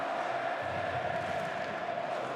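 A sellout stadium crowd at the A-League Grand Final between Sydney FC and Melbourne Victory roars as a steady, distant wash of massed voices, even in level from start to end.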